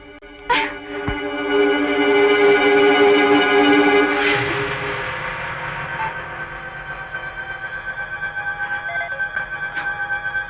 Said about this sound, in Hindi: ये फोन एंगेज क्यों आ रहा है?